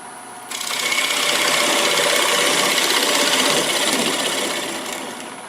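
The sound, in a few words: bowl gouge cutting wood on a lathe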